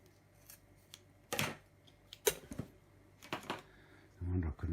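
Scissors snipping the strand ends off a spliced rope, with several sharp, separate cuts spaced over a few seconds, close and fairly faint in a quiet room.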